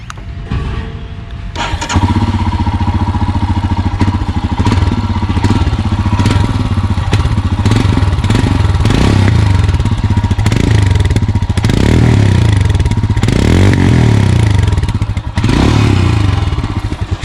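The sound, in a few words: motorcycle engine starting and idling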